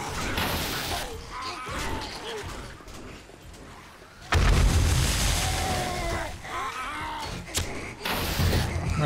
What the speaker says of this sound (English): And then throw some bombs